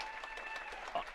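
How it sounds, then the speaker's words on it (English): Applause from a studio audience at a wrestling-themed show, a steady dense patter of many hands clapping at moderate volume, fairly distant, continuous through the moment with no one speaking over it. "I think we got a round of applause"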